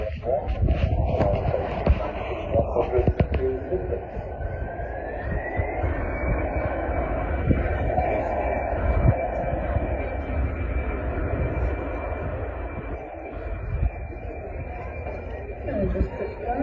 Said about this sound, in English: It's Brussels Airlines on 2174, and Airbus A319-100, and that aircraft on its way back to Brussels.